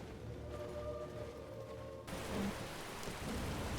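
Rain in the video game Skyrim, falling on a tall forest, a dense steady hiss of drops that thickens and grows louder halfway through, continuous and enveloping with no voices.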